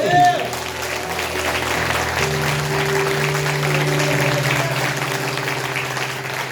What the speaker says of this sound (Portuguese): Você pode aplaudir o Senhor, querido?